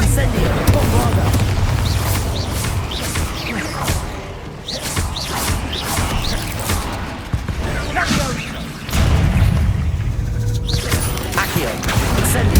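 Bombarda spell blasts in the video game Hogwarts Legacy land as deep booming explosions with whooshing spell effects around them, and a voice is heard between the blasts.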